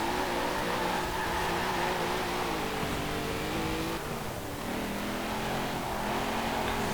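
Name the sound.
car driving in the video game Forza Horizon 4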